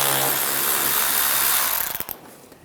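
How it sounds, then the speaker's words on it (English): A socket wrench backs out a bumper molding screw on a 2013-2016 Dodge Dart, a dense, close mechanical whirring rattle that runs steadily and then cuts off abruptly near the end, followed by quieter handling. "Use an 8mm socket, take this screw out."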